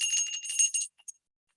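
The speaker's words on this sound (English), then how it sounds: "I will ring the bell" A bell rung to open a moment of silence at a poetry reading: one bright, ringing strike with a clear sustained tone that fades within a second, leaving near silence with a faint echo.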